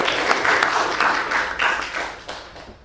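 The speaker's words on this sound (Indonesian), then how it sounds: "Kasih aplaus buat temannya juga." A classroom of students claps for a classmate who has just finished speaking, a dense burst of hand claps that swells and then tapers off over a few seconds.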